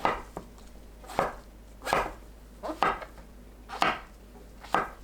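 Six crisp knife chops slicing king oyster mushrooms against a cutting board, spaced irregularly about a second apart, close and clear with quiet gaps between.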